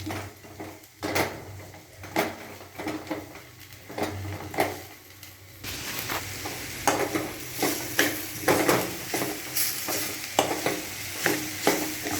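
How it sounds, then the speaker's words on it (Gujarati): Date mixture being stirred and roasted in ghee over a very low flame, a spoon scraping the pan in repeated strokes under a steady soft sizzle that grows louder partway through, with no talking. "હું આને ઘીમાં શેકું છું સાવ ધીમો ગેસ રાખવાનો છે અને ઘીમાં શેકવાનો છે"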